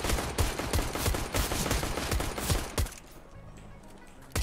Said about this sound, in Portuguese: o cara colocou no modo rajada